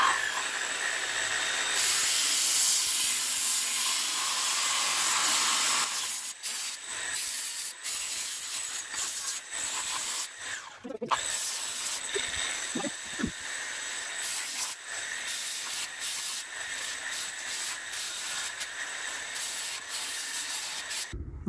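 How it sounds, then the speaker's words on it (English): A Flex tubing sander works a round steel tube on a go-kart build, a loud continuous abrasive hiss that shifts and rubs as the belt wraps the tube, with brief dips and knocks partway through. "this is a tubing sander and it conforms to the tube"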